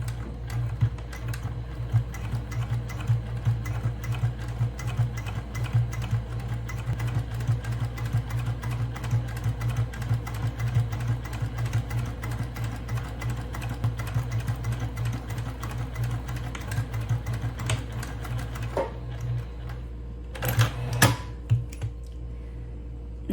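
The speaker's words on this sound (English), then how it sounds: "I'm here at the sewing machine and I'm gonna start to sew." A sewing machine stitches a tote bag, running in a fast, steady mechanical rattle close by for most of the time before it stops, followed by a few sharp clicks near the end.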